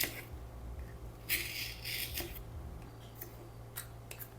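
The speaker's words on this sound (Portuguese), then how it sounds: "Vou cortar aqui." Crown molding trim being cut with scissors or shears, a few short crisp snips standing out against a low steady room hum, close and fairly quiet.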